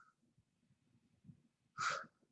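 A person breathes quietly during a Pilates-style floor workout, with soft breaths and one louder, sharp exhale near the end.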